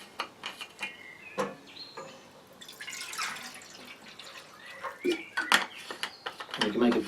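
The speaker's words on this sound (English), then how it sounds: "Put some water in here." Water poured into a metal bushcraft cooking pot outdoors: scattered drips and light metallic clinks, then a short splashing pour, followed by more taps and trickles, close and fairly quiet.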